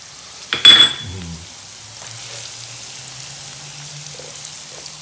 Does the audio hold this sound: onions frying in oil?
yes